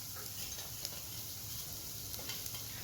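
Onions sautéing in a pan with ginger-garlic paste for a chicken dish, a soft steady sizzle with faint stirring scrapes, close and quiet throughout with no talk.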